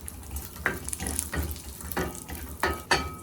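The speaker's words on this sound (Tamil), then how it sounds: "இப்போ இதில் முந்திரி பருப்பு, பாதாம் பருப்பு, கிரேப்ஸ் எல்லாம் போட்டு கொஞ்சம் வறுத்துக்கிறேன்." Cashews, almonds and raisins fry in butter for paal payasam, giving a light sizzle broken by repeated stirring scrapes and clinks at a steady pace, close and fairly quiet, with no voices.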